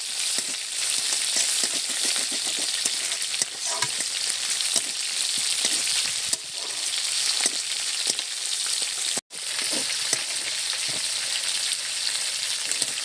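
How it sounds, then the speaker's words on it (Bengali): Ginger paste and spices fry hard in a pan with a dense, crackling sizzle that runs on without a break. Scattered spatters and light stirring scrapes punctuate it, with one short clack partway through. "মশলাটাকে বেশ সুন্দর করে কষে নিয়েছি"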